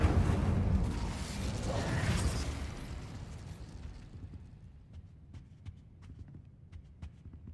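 The Incendio fire spell in Hogwarts Legacy erupts in a loud, roaring burst of flame that fades over several seconds into quieter, scattered crackles and clicks.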